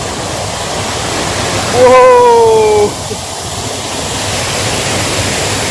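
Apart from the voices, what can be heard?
Chinnar check dam waterfall in Western Ghats foothills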